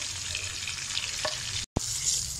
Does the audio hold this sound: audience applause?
no